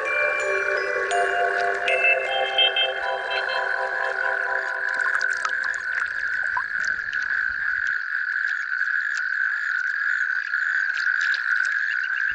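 Natterjack toads call from a shallow, calm breeding pond, a loud sustained chorus of rapid rattling croaks, several overlapping voices at first thinning to one dominant trilling caller near by.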